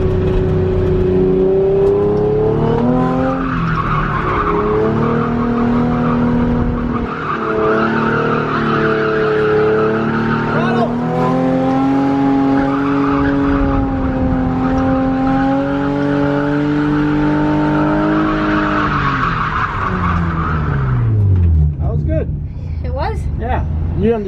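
A car drifts and spins out, its engine revving high and sustained while the tires skid and squeal, pitch wavering through the slide before dropping away near the end, with voices talking over it.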